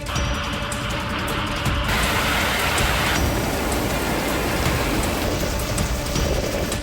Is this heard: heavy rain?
yes